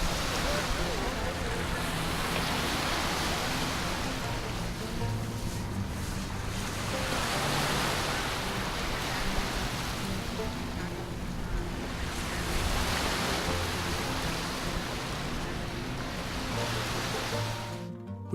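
Ocean surf rolling onto a sandy beach in loud, broad surges about every five seconds, with wind rushing over the microphone throughout.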